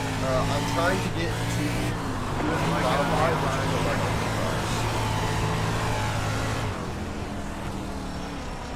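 A loud, steady race car engine drone in a video game, with a constant tonal hum, broad mechanical noise, and a voice talking over it before it drops slightly near the end.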